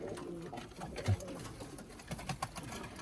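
Pigeons in a loft coo in a low, steady murmur, with soft rustles and wing flutters scattered throughout, fairly quiet and close by.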